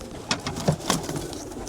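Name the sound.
homing pigeons cooing in a loft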